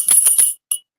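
A small decorative figurine bell shaped like a lady in a big dress chimes in a few quick, bright rings followed by one short final ring, close and clear.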